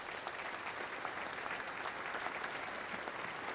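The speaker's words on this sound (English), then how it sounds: "So let's give all these folks a great round of applause." Crowd at a submarine keel laying ceremony for the future USS Delaware at a Newport News shipyard breaks into dense, continuous applause, a steady, fairly distant roar of many hands clapping.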